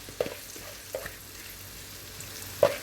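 Sliced leeks hit hot melted butter in a pan, giving a soft, steady sizzle with a few small pops and crackles scattered through the quiet frying hiss.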